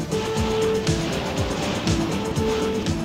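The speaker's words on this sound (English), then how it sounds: "Vehicle approaching at 1 mile and closing from southwest." A vehicle approaching in a TigerSharks animated TV scene: a steady, loud engine roar with repeated rising whooshing sweeps, continuous throughout without talk.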